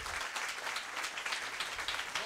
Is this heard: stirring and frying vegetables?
no